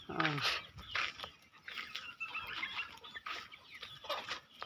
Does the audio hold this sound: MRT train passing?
no